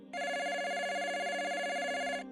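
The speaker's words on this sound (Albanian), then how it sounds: "Papritmas bie zilja e telefonit." A telephone bell rings in one continuous electronic trill for about two seconds, clear and fairly close, then cuts off.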